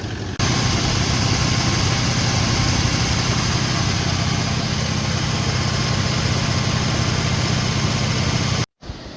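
The engine of a Toyota 200 series VDJ200R idles steadily after a water pump replacement, a constant close rumble with a cut near the end.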